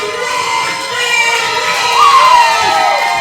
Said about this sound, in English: the crowd coming unglued